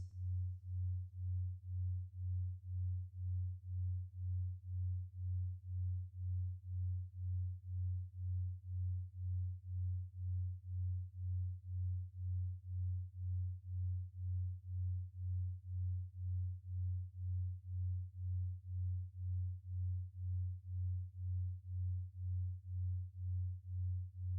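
A steady low 90Hz binaural beat meditation tone hums continuously, pulsing evenly in a slow regular throb, clean and alone with nothing else around it.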